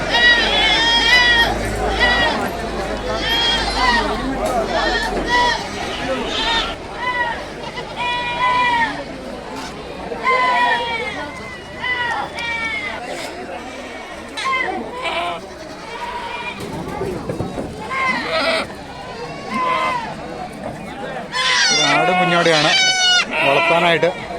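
Many goats bleat over and over at the busy Kalampur goat market, sharp cries overlapping near and far amid loud crowd babble and people talking close by.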